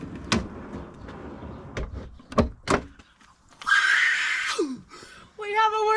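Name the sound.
car camping drawer sliding in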